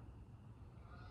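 A single goose honks overhead while flying at night, one faint, brief call heard alone against a quiet low background.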